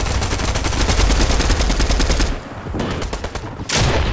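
Rapid automatic gunfire from a weapon in the Fortnite Chapter 3 video game, sustained dense bursts for about two seconds, a short pause, then more loud shots near the end.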